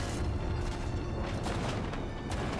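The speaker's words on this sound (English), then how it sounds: "Why are they shooting the cannons in the first place?" Cannons fire aboard a ghost ship in the 2019 video game MediEvil, dull booms half-buried in a dense, constant roar of game noise.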